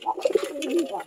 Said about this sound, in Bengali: এই যে এগুলো হচ্ছে সব আমার কবুতর মাশাআল্লাহ